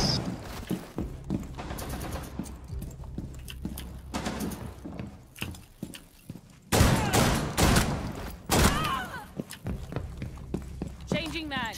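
Gunfire in Rainbow Six Siege, several bursts of automatic shots and impacts, loud and close, with a player talking between the volleys.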